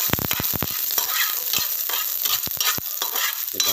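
Onion sautés in a hot pan with a steady crackling sizzle. A utensil stirs it, and its sharp clicks and scrapes against the pan come close up in irregular bursts.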